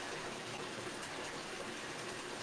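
Running water filling a bathtub, a steady loud gushing hiss continuing without a break.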